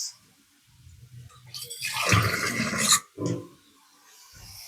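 Water poured into a pan of cooking ivy gourd (tondekayi palya) with softened onions: a loud, broad splashing rush lasting about a second and a half, followed by a short second pour, then quiet.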